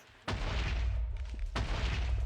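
Loud, close booming blasts in the Avatar: Master of Elements video game, two heavy explosions in quick succession, each a sudden burst followed by a rumbling tail.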